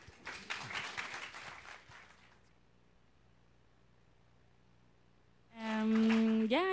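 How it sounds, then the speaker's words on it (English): An audience at a talk on the Symbiocene breaks into a short burst of applause lasting about two seconds, then the room goes quiet before a voice begins. "that needs an applause"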